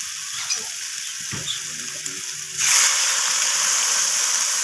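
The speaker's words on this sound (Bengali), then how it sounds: "সমস্ত কিছু আমি ভালোভাবে কষিয়ে নিচ্ছি। তো এখানে আমার কষানো হয়ে গেছে আর সব কিছু থেকে তেলও ছেড়ে দিয়েছে।" Spices and a rohu fish curry base stir-frying in oil, a soft sizzle with stirring scrapes that jumps into a louder, steady hiss partway through, heard close up.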